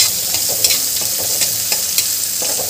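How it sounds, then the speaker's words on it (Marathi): Chopped onion sautés with chilies in a pan for rawa upma, a loud continuous sizzle with repeated scraping taps of a spoon stirring, no talking. "यामध्ये आपल्याला कांदा घालून घ्यायचा आहे. आणि हे छान परतून घ्यायचं आपल्याला."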